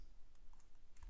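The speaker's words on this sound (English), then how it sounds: "typing" Someone types on a computer keyboard, heard as a few faint, scattered key clicks over quiet background noise in a short burst.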